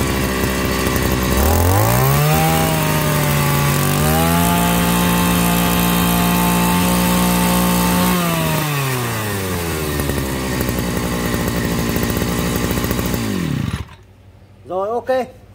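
A small brush cutter engine runs loud and close, revving up and holding a high whine before it slows and cuts off, followed by a brief voice.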